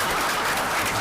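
Audience applause at a township council reorganization meeting, a steady wash of clapping hands from a room of people, even and sustained with no talk over it.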